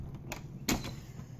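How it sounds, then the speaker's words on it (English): A door is opened with a few soft clicks and a single sharper knock-like thud near the middle, close by and fairly quiet. "we open the door for the first time."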